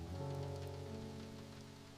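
Steady rain falls during Japan's Tsuyu rainy season, a soft continuous patter on surfaces that stays faint and even, fading slightly toward the end, with no voices.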